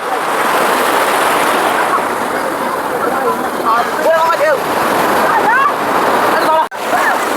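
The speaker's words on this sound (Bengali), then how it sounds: "এটা বড় বড় ঢেউ নিচ্ছে দেখো" A constant roar of big ocean waves crashing and surging at New Digha beach, with excited voices talking over the surf.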